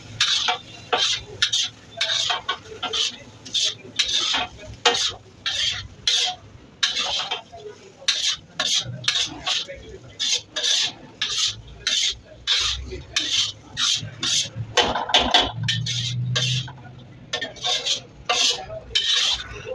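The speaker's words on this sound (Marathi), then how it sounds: "भात पूर्ण टाकायचा आहे. त्याला पण परत एकदा हलवायचं आहे" Rice being stirred into tava pulav in a pan, with a spoon scraping and rubbing against the metal in a rapid, steady run of close strokes.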